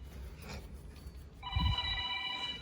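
A phone rings out in a car workshop where a Nissan R34 engine is being worked on; an electronic ringing tone starts partway through and holds steady and clear over low background rumble.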